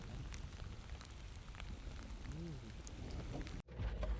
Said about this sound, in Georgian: ახლა უდრო-დროს დაიწყო წვიმა რა.